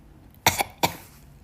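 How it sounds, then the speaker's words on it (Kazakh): A small child coughs twice in quick succession, short sharp bursts close by in a quiet room. "Бала шағаң жөтеліп отыр ғой"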